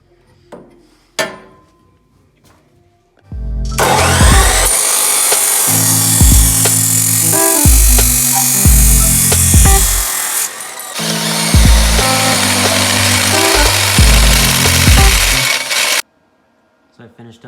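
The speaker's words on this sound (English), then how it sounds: "I'll cut this off and notch it, cut it off up there so it meets with the main tube" A power saw cuts steel tube for a Nissan 240SX S13 tube front, two long loud grinding passes with a brief pause between them, framed by quiet workshop handling noises.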